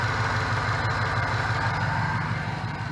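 Stock 6.2-liter Cadillac Escalade V8 with factory manifolds and an added LSA supercharger, idling steadily with a low, even rumble and constant mechanical hum, close up and unbroken for a few seconds.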